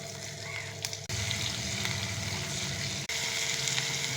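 Dried red chillies and Bengali five-spice sizzle in hot mustard oil for a stalk-greens dish, a steady close frying hiss throughout with two brief dropouts.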